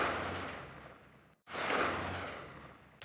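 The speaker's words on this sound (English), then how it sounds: "This is another firework recording from Valentine C, with some flanger going on to give it a little bit of futuristic flavor" A firework blast processed with flanger and heavy filtering as a futuristic weapon tail: two long, dense roaring washes that swell and slowly decay, split by a brief cut, followed by a short sharp pop at the end.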